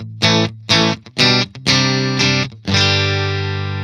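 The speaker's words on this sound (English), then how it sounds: "So this is the sound of my IR that you can get in the description of this video." An electric guitar runs through a Quad Cortex with a Doc Greenback and Vintage 30 impulse response. It plays a few punchy, driven chord stabs with short gaps, then a final held chord ringing out, loud and alone.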